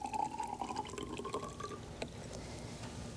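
Water pours into a container holding salt for a 5% salt solution, a close gurgling fill with a rising tone as the vessel fills, ending with a short splash.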